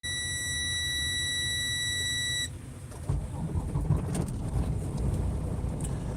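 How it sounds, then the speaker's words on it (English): Steady electronic beep tone sounding loudly for about two and a half seconds, then cutting off, leaving low rumbling background noise and scattered clicks. "my god, stop beeping."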